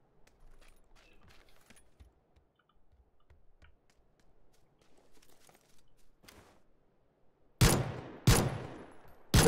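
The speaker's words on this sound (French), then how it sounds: "c'était moi qui tirais sur un bidon pour essayer de le faire exploser, mais a priori ça ne marche pas" Three loud gunshots ring out in quick succession near the end, aimed at a fuel barrel in PUBG, following a long stretch of faint clicks and quiet background noise.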